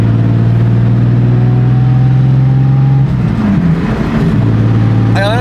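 Turbocharged BMW E46 drift car with an M54 engine, droning loud and close from inside the cabin at steady revs, the pitch dipping and shifting midway before settling back into a constant hum.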